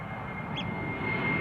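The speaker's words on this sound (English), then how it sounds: "BA to London Heathrow in the meantime, taking off over here." A British Airways airliner bound for London Heathrow takes off at Amsterdam Schiphol, a steady distant engine roar that slowly grows, with a faint bird call briefly over it.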